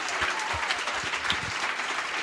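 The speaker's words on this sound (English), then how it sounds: "Please give yourselves a big round of applause." A live audience claps steadily, filling the whole stretch with dense applause at an even level, with a faint murmur of voices underneath.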